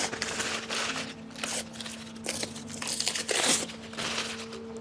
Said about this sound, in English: we're going to kind of take our plastic off our AMS.